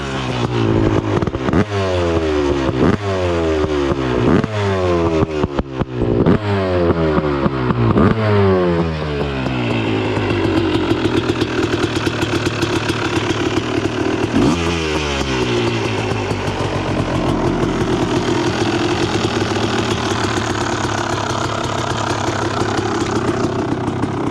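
A Yamaha 250 YZ two-stroke supermotard fitted with a small exhaust barks through a series of sharp, rising revs, about eight quick blips in a row, then drops into a loud, raspy, slightly uneven idle with another rev midway.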